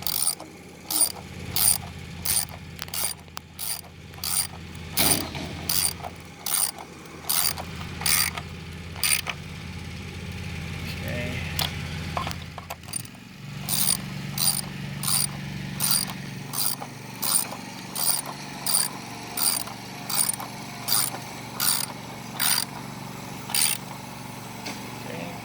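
A ratchet tightens the nuts holding an emblem on a 2021 Ford F-350 Super Duty Tremor, clicking in quick, steady runs of sharp strokes, close by, with a short pause in the middle.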